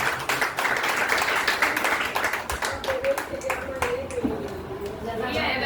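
An audience at a religious katha gathering claps in a brisk, rhythmic burst that fades as a sustained voice takes over.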